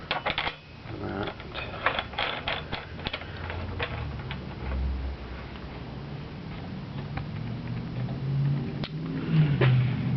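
A threaded all-thread rod is turned to press a headset into a Trek city mountain bike frame. It gives faint, steady metallic ratcheting and creaking through the whole stretch, close by and with no talk over it.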